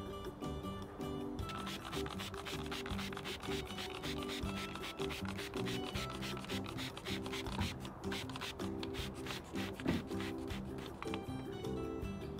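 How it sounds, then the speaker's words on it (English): A paintbrush smooths wet paint side to side for a blended ombre finish, making a steady, continuous rubbing swish that runs for the whole stretch without pause and with no talking. "I'm just taking my brush and just kind of smoothing out so it's not like super dripified"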